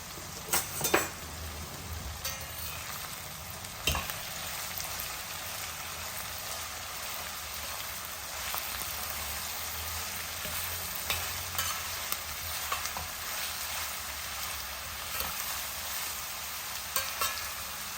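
Fresh curry leaves fry in hot oil as a spoon stirs them, giving a soft, steady crackle with occasional sharper scrapes and pops, fairly quiet and without any voices.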